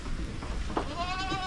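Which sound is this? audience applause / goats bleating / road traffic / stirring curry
goats bleating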